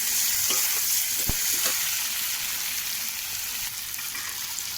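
Steady close sizzling of food being sautéed in a frying pan, with a few knocks and scrapes from stirring over the constant hiss.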